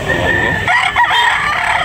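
A rooster crows loudly and close at a busy chicken market, one drawn-out crow with clucking fowl and market bustle filling the background.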